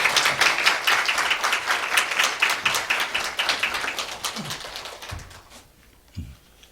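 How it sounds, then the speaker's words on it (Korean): A church congregation at an elder ordination service gives a round of brisk, lively applause to welcome the pastor to the front. The clapping thins out and ends, followed by a few soft thumps. "나오실 때 우리 박수로 우리 환영하겠습니다."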